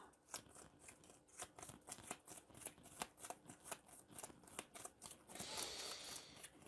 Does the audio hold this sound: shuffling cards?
yes